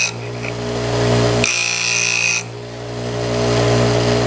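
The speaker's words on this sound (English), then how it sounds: "So as I start to grind" Bench grinder grinding the corners of a hand plane blade to camber its edge, a steady motor hum with a brighter, louder grinding burst in the middle as the steel touches the wheel, close and without talk.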